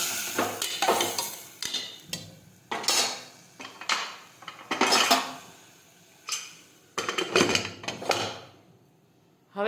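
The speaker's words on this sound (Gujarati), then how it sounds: "હવે આપણે કુકરનું ઢાંકણ છે તે બંધ કરી દઈશું." A metal pressure cooker lid is fitted and closed over a vegetable curry, giving a series of close, sharp clanks and scrapes in uneven bursts, ending in near silence.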